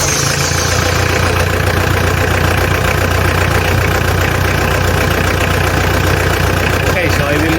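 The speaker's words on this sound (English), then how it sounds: "let's start this engine, and then I'm going to let this idle for 20 minutes" A car engine runs at a loud, steady idle right after a timing belt installation, with a constant close rumble and mechanical clatter throughout.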